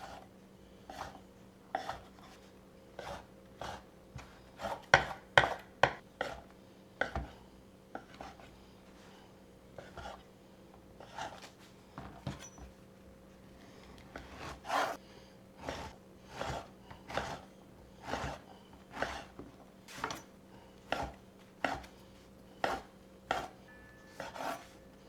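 Bread being chopped with a knife: a long run of sharp, close knocks, sometimes quick and grouped, sometimes spaced apart, with quiet stretches between bursts and no speech.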